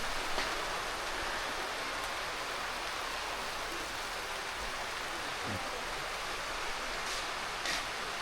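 Sudden afternoon rain in a village, a steady broadband hiss of falling rain with a few faint thuds and distant sounds mixed in, continuous and moderately quiet.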